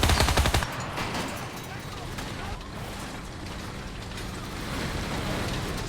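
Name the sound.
Beretta M-38 submachine gun firing in a video game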